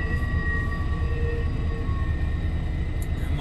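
A train rumbles past steadily in rural West Virginia or Western Kentucky, with a low continuous roar and faint high metallic tones riding above it.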